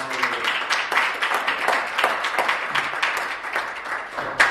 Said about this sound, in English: Let's have a big round of applause for really